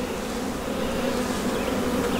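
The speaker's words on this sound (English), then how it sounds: "feel the bees flying around my hands" Honey bees fly around an open hive during a hive check, making a dense, continuous buzzing drone that is close and steady throughout, with no talking.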